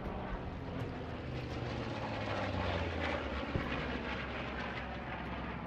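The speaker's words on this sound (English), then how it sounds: "I think that's twice in a row that I got hit by a plane." An airplane drones overhead in the World War II shooter Post Scriptum, a steady loud engine roar filling the whole stretch with rumbling battle noise beneath it.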